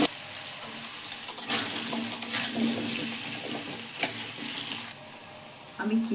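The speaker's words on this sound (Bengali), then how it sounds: "তো আলুটা ভেজে নেব।" Boiled potatoes fry in mustard oil in a pan, a soft continuous sizzle with occasional crackles and stirring clatters, fairly quiet and close, with no one talking.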